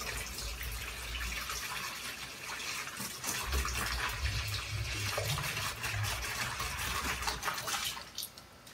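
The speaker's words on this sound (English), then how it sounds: "I am going to be adding water to this um, to get the um, to get the manifold fully submerged" Water pours steadily into a container to submerge a Chrysler Hemi 5.7 intake manifold for cleaning, a soft continuous splashing fill that grows slightly fuller partway through, close by with no talking.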